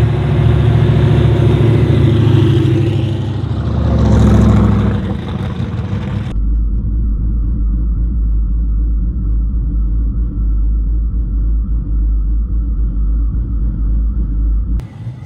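Two turbocharged LS-powered Holden Commodores, a VH and a VL, roar down a no-prep drag strip, a loud, heavy engine rumble that swells and then drops to a steady low drone, with no talking.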